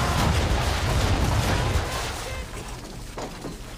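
Heavy ship cannon broadside during naval combat in Assassin's Creed III, a dense rumbling barrage of booms and crashing impacts that stays loud, then eases slightly toward the end.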